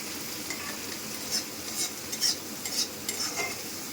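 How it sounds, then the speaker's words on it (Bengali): Dal makhani masala with salt sizzles softly in a pan while a spoon stirs it in a series of short, irregular scraping strokes, close and moderately quiet, with no talk. "তো এটা আমি লবণ দিয়ে কষাচ্ছিলাম"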